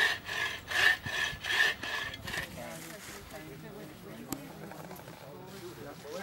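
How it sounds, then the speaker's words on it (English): Hand saw cutting through wood outdoors, several rhythmic rasping strokes early on, then softer scraping and handling, with a person speaking over it. "Let the saw do the cutting."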